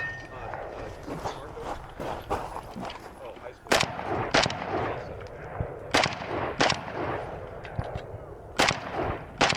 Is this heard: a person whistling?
no